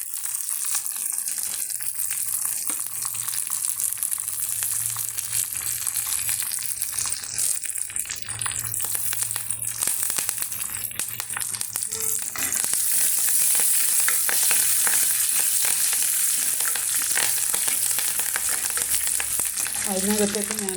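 A handful of curry leaves fries in hot oil for a lemon pickle, making a steady close sizzle with occasional stirring scrapes that continues throughout.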